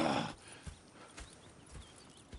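Horses clip-clopping in the video game Red Dead Redemption 2, a few spaced hoof thuds with an occasional soft snort, heard at moderate distance after a brief louder burst at the start.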